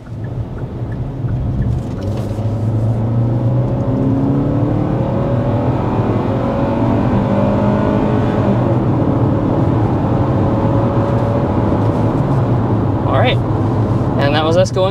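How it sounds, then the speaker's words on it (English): A 2024 Kia Sportage with the traditional four-cylinder engine accelerates hard up to 60 mph, a steady loud engine drone rising in pitch throughout, heard from inside the cabin without talk. "let's go ahead and start with a hard acceleration"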